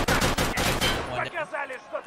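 Rapid automatic gunfire in the shooter Escape from Tarkov Arena rattles in a loud, close burst, then fades as a voice speaks.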